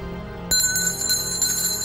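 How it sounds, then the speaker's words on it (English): An antique silver table bell made in London in 1738 rings with a bright metallic onset and a sustained high shimmering tone, close and clear, with a couple of lighter restrikes. "this delightful bell is by Peter Archambault from 1738"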